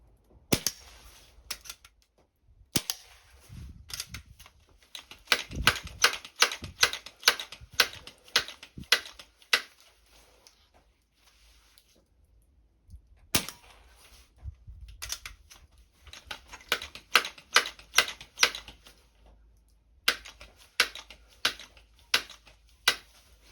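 Crosman Scout air rifle, a 2289 Drifter build, snap shooting at cans outdoors: sharp isolated cracks and quick clusters of snapping clicks from cocking and shooting, repeated close up in irregular bursts with quiet gaps.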